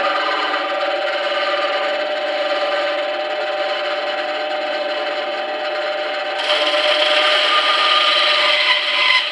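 Wood being hand-sawn along a cut line while held steady, a continuous near rasping drone with no pauses that grows louder and brighter near the end.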